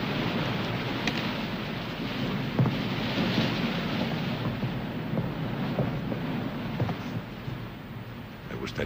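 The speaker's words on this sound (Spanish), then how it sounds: "Se avecina una tormenta." Film sound effect of an approaching thunderstorm, a continuous rumbling roar with wind and rain-like hiss and a few faint cracks scattered through, steady and fairly loud.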